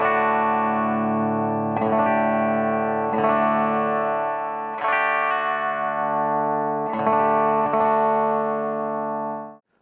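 A Steinberger Synapse guitar played clean through a blend of piezo and magnetic pickups with low cut EQ, sounding as sustained strummed chords that change about every one and a half seconds, close and steady, with no talk.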